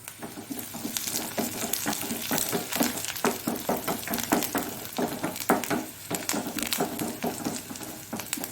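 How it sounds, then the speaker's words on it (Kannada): Garlic and onion fry in coconut oil for a Mangalorean clam and cucumber curry, a continuous close sizzle broken by frequent scraping stirs and light clinks of a utensil against the pan. "ಒಳ್ಳೆ ಬೆಳ್ಳುಳ್ಳಿ ಮತ್ತು ನೀರುಳ್ಳಿ ಒಳ್ಳೆ ಫ್ರೈ ಆಗಬೇಕು ಈ ತೆಂಗಿನ ಎಣ್ಣೆಯಲ್ಲಿ."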